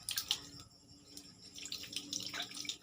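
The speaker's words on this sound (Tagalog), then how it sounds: "Malakas po yung agos ng tubig namin dito." Water from a tap runs in a strong, splashing flow, steady and fairly close, with hissy spray and gurgling throughout.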